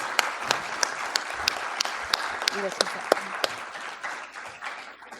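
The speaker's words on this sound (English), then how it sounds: "let's give a big round of applause to our new inductees." Steady applause from an audience at a science honor society induction ceremony, many hands clapping at once in a dense patter that continues for several seconds and fades slightly at the end.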